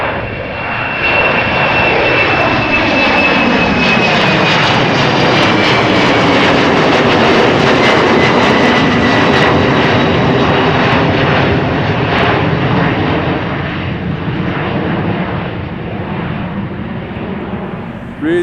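A KLM Cityhopper jet climbs out from Amsterdam Schiphol bound for London City, its engines a loud, steady roar that holds close overhead and slowly eases as it passes and recedes.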